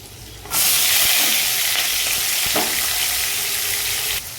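Chopped green chilies and onions drop into a hot frying pan for an Andhra-style carrot fry, setting off a sudden loud, steady sizzle that keeps going, close by with no talk.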